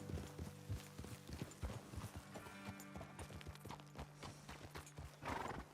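Horse hooves clip-clopping in an even rhythm in the video game Red Dead Redemption 2, with a whinny and soft background music; the hoofbeats are moderately loud and close.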